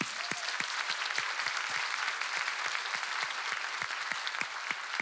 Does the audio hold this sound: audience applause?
yes